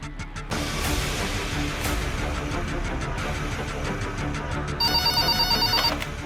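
A telephone rings while a call is placed to a city hospital, a repeating electronic ring tone toward the end over a dense, loud background of music and noise.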